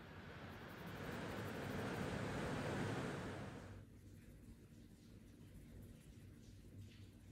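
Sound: rain and wind outside

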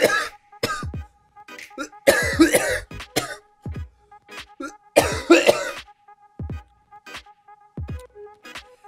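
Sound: cough

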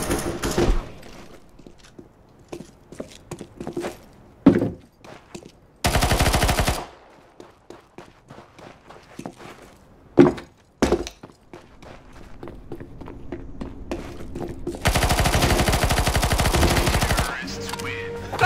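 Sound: PP-Bizon submachine gun firing in Counter-Strike video game

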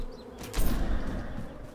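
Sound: bees buzzing in a video game (Holomento)

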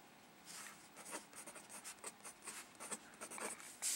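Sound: pencil writing on a crossword puzzle

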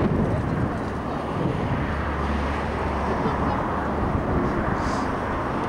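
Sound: airplane flying overhead, Transaero airliner

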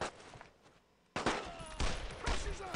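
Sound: gunfire in the video game Brothers in Arms

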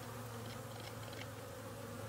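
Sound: honeybees buzzing around hive entrance in winter

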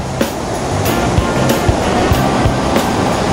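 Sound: Lintungan Falls waterfall, rushing water

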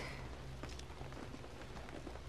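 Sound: rain in video game InFamous

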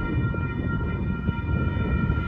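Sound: Union Pacific rock train approaching a crossing

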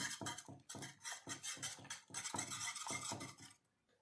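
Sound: stirring and mashing cooked toor dal in a pot

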